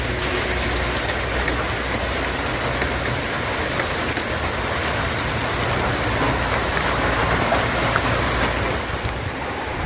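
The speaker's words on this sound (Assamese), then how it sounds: "আপুনি বৰষুণতে কাম কৰি আছে আমি বৰষুণতে কাম কৰি থাকিব লাগে" Steady rain falls throughout, a continuous dense hiss of drops on surfaces outdoors, loud and unbroken with no voices.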